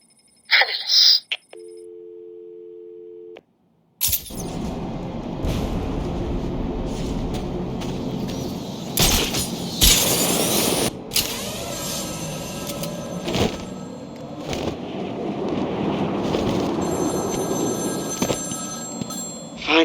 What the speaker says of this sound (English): Find my phone, Batman